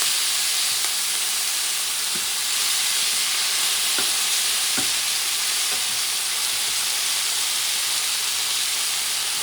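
Paella rice and other ingredients for an Alicante-style paella are stirred in a hot pan, sending out a continuous broadband sizzle and hiss with several soft scraping ticks from the utensil, steady and close, with no voices.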